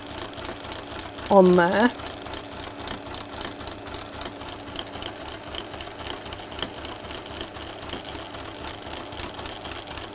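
A sewing machine runs in a steady, rapid mechanical rhythm while stitching around the edge of a fabric tablecloth, with a short spoken phrase over the start and the hum continuing alone afterward.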